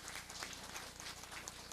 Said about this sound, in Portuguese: eu gostaria até de pedir uma salva de palmas para esses dois municípios